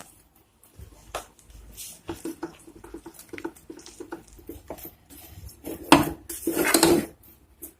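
Rice flour is stirred into a pan with chilli flakes over low heat, producing irregular scraping, tapping and clinking of a utensil against metal, sparse at first and growing busier and louder toward the end.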